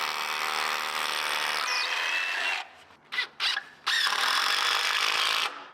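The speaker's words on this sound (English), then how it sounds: "we use this cordless hammer drill to set them in" A loud, high-pitched cordless hammer drill whirs steadily for a few seconds, stutters in short bursts, then runs continuously again before stopping, setting anchors into concrete.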